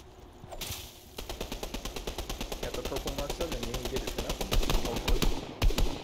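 Rapid automatic gunfire rattles steadily in Fortnite as players shoot at a llama, a dense, evenly spaced burst of shots that grows louder toward the end, with voices talking over it.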